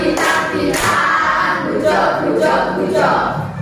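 A school class performs a rhythmic group clap in a classroom, several loud, close bursts of many hands striking together in a patterned sequence.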